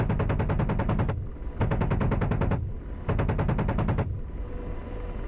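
Apache helicopter cannon firing in DCS World: three loud, sustained bursts of rapid rounds, each about a second long, separated by brief pauses, close and dominant with no talking.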